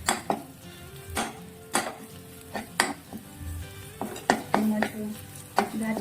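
Chili goes into sizzling garlic and ginger in a pan for Manchow soup, with steady frying hiss broken by repeated sharp clinks and scrapes of a spoon stirring against the metal pan.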